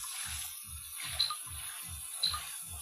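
Water in a Minecraft flood, heard as a regular run of soft low watery swimming strokes about every third of a second over a steady hiss, with two brief higher splashy chirps.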